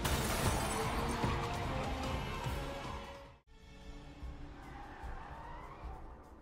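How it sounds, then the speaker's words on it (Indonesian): A car racing at speed in an animated zombie-action film chase, a loud roaring rush with squealing tires that cuts out abruptly midway, then resumes as a steady engine drone. "Sementara Chris dan mobilnya sedang melaju cepat untuk mengejar Arias."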